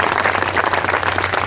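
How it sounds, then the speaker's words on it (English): Audience applause at a military honor garden dedication program at Mayville State University, a dense, loud, continuous crowd clapping with a low hum underneath and no voices. "Let's give a round of applause for that wonderful, wonderful"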